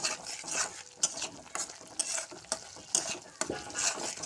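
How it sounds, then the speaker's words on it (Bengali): Turmeric, cumin and coriander masala stirred in a hot pan, with a steady sizzle broken by regular scraping spoon strokes about once a second, close and fairly loud. "এটাকে ভালো করে মিক্স করে নেবেন।"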